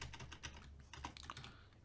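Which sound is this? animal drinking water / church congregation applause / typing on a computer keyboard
typing on a computer keyboard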